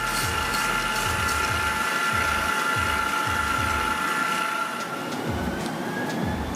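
A stand mixer beats chocolate chip cookie dough at medium speed, giving a steady, loud whirring rattle with a rhythmic clicking texture that runs continuously throughout.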